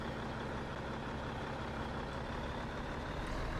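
A cab-over water tanker truck in Farming Simulator 22 rumbles under a steady, dense engine drone with a continuous broadband road noise and no break, with no voices heard.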